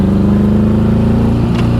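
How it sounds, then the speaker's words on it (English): Engine of a 1984 Honda Goldwing motorcycle running with a loud, steady idle that breaks into a brief irregular pop near the end, close and alone without talk. "every once in a while, like the engine just pops"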